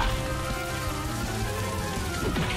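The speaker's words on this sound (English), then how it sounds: "Prolonged rain." Prolonged rain in an animated Pokémon battle, a loud, dense, continuous hiss of downpour with layered music-like tones beneath, steady throughout without speech.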